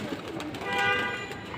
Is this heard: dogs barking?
no